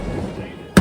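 A single sharp firecracker burst pops close by at the very end, during a Karthigai Deepam festival celebration, following a brief stretch of low background noise.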